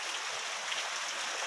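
Heavy rain pouring during a 1 am night storm in Guelph, a steady dense hiss of water falling without pause.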